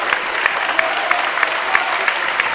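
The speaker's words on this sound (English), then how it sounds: "Gets a well-deserved round of applause, not just from the Winnacunnet fans either" A crowd applauds steadily in the gym at a Winnacunnet vs Bishop Guertin NHIAA Division 1 boys high school basketball game, a dense, sustained wash of clapping with a few sharper claps poking out.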